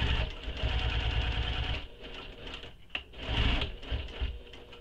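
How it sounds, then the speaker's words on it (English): Sewing machine backstitching the exterior seams of a crossbody bag, a steady mechanical whirring with rhythmic needle clatter that pauses briefly midway, then resumes close and fairly loud. "come back to where your stitching was for sewing the exteriors together, and backstitch on that stitching as well"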